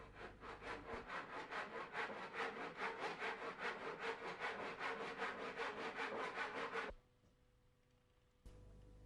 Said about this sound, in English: Again, mark the position of the miter cut, noting the direction. Cut to size as you did before.